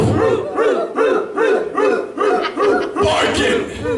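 A wrestling crowd at a live show barks in unison, imitating a dog with a steady run of loud, rhythmic 'woof'-like shouts, roughly two per second, with some laughter mixed in.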